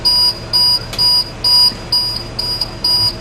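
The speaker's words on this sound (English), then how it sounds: "between 60 and 80, my low air buzzer warning should go off" A bus low air pressure warning buzzer sounds as loud, repeated electronic beeps in an even on-off rhythm, seven pulses in quick succession.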